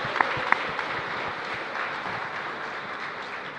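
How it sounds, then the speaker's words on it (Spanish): A congregation applauds during Mass at a parish church, a steady, moderately loud wash of clapping that fills the whole stretch, with a few sharper claps standing out near the start. "Y un fuerte aplauso para el Señor."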